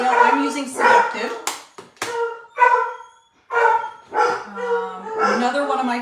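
Several of seven household dogs bark and yip indoors in loud, overlapping bursts, close by and repeating across the stretch.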